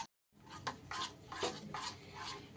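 A spoon scrapes and clinks against a pot while jackfruit curry ingredients are stirred and mixed, with soft rhythmic strokes repeating at a steady pace, fairly close but quiet.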